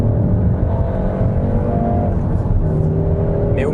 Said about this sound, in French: la sonorité du moteur qui est assez quelconque en mode normal, assez artificiel en mode sport